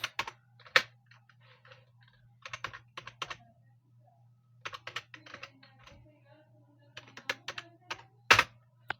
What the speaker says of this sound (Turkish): Şu anda yazıyorum abi.